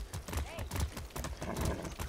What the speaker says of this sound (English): This is a long ride on this horse